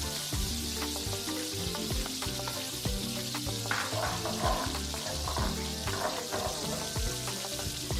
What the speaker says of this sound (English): So now I'm sauteing my onions to release the juices and release the flavors